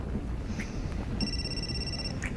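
A telephone rings in a quiet room: a single electronic trill partway through, fairly faint over a low background hum.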